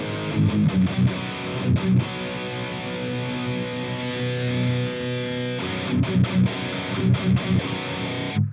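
Distorted electric guitar played through an Amplitube Mesa Triple Rectifier amp simulation with greenback speaker emulation, sustained heavy chords with choppy palm-muted bursts at the start and end, loud and alone.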